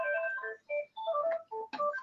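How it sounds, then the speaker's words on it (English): A house phone rings with a bright electronic melodic ringtone: short bursts of stepped tones with brief gaps between them, heard clearly on its own. "I do apologise for the house phone."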